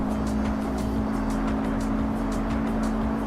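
Race car engine in a racing simulator video game, a steady droning engine tone held at constant revs, loud and continuous with faint rhythmic clicks above it.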